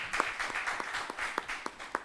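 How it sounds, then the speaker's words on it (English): After a symposium breakout session on the digital divide, the audience gives the panel a brief round of applause: distinct, fairly close individual claps in a loose rhythm over about two seconds. "I'd like to have us give the panel a big round of applause."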